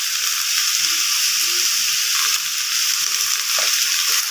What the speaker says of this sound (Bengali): তারপরে আমি এটা ভালো করে ভেজে নিচ্ছি লাল করে।